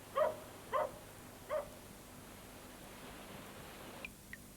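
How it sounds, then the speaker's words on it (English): Three muffled dog barks ring out at a distance, evenly spaced, followed by quiet background hiss and a couple of faint ticks. "A dog barking outside."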